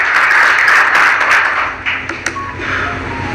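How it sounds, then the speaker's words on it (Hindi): Applause welcoming a guest at a CSC village-level entrepreneurs' event, a burst of clapping that is strong at first, then thins into scattered claps over a few seconds. "एक बार जोरदार तालियों से उनका स्वागत किया जाए।"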